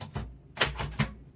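Typewriter keys strike in a few close, sharp clacks with brief pauses between them, heard alone and near.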